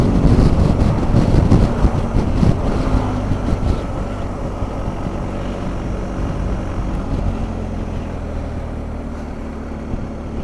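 Wind buffets the rider on a moving BMW R1250 GS Adventure motorcycle fitted with an aftermarket screen, a dense roar of rushing air and engine that is loudest at the start and then settles to a steady whoosh with no talk.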